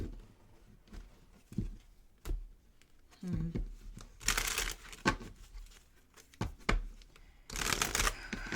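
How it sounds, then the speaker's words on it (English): Tarot cards are pulled and shuffled close by, with soft slides and flicks and then two longer bursts of riffling, under faint background sound. "I'm going to pull some other cards."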